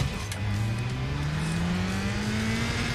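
Race car engine in iRacing held at full throttle, a steady loud drone with pitch climbing smoothly and continuously across the whole stretch, no voices over it.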